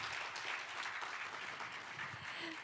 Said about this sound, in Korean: 다시 한번 큰 박수 주십시오.